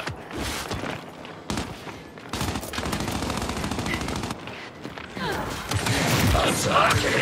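Rapid automatic gunfire and bursts of shots in the video game Gears of War, loud and sustained throughout, with voices talking over the firefight.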